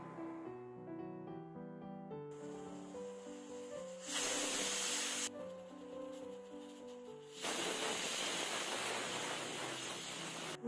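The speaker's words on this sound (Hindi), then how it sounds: "कुकर में 5 सीटी आ चुकी है" A pressure cooker cooking chickpeas lets out two long, loud bursts of hissing steam whistle over soft background music.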